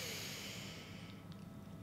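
A deep breath drawn in during a guided meditation, a soft airy inhalation with a slight snort-like sniff, close and quiet against a faint background hiss.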